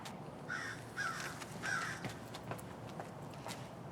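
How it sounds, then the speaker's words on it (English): A crow caws three times in quick succession, moderately near, over a steady low outdoor background hum with no talking. "Stupid bird."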